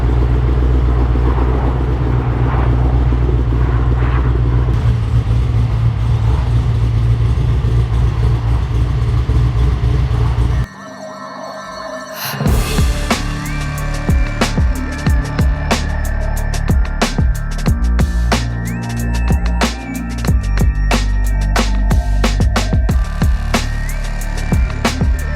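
A van engine running in a workshop as it is driven off a hoist, a loud, steady mid-low rumble that cuts out briefly and then returns rougher, mixed with clanks and shifting workshop noise.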